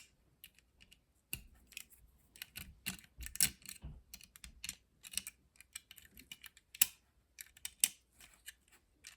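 Plastic parts of a Beastbox Bloodstone transforming toy give sharp, irregular clicks and snaps, close and crisp, as tail spikes flip out and panels fold open, with quiet gaps between the clicks.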